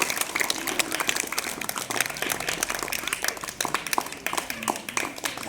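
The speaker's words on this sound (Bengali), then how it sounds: "জোরে হাততালি দিতে থাকুন" Audience clapping at a Bengali spring festival gathering, a steady dense patter of many hands kept up without a break, with faint voices underneath.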